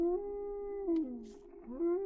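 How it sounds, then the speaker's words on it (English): A wolf gives a single long, mournful howl, close and clear, its pitch holding steady before dipping and rising again in smooth glides, with no other sounds around it. "That sounds like a wolf."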